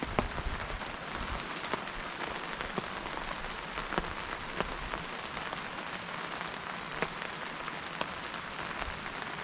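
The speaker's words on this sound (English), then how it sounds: "You hear that rain?" Heavy rain drumming on a tarp in an isolated UK woodland, a dense, continuous patter with scattered louder drops, close and steady throughout with no voices.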